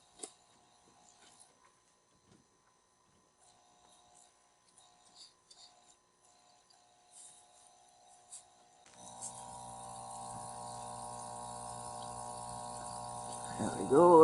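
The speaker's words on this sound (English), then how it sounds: "Lots of bubbles. It works." A hydroponics system pump in an off-grid homestead greenhouse starts bubbling water, a steady churning flow that rises after quiet handling noises and continues loudly to the end.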